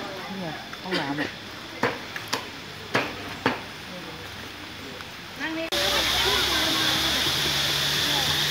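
At Sai Yok Noi waterfall in Thailand, someone talks over distant rushing water with several sharp clattering knocks, then the roar of the falling water suddenly becomes loud and continuous close by.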